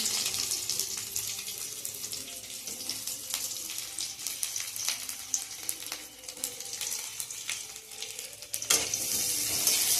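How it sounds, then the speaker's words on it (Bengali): Chopped onion dropped into hot oil with black cumin seeds sizzles loudly and steadily, a dense crackling hiss with scattered pops and a brief louder surge near the end. "আমি পেঁয়াজটা ছেড়ে দিলাম"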